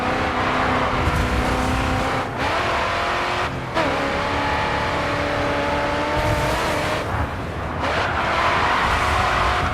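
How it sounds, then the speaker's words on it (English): A race car drifting in the video game GRID 2, loud sustained engine roar with tyres squealing and skidding, the pitch dipping and rising as gears shift, close and continuous. "Let's get a big drift on."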